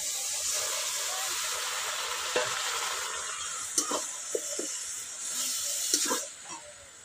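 Salted cabbage juice is poured into a hot cooking pan, setting off a loud, hissing sizzle broken by a few scraping stirs and clinks as it settles.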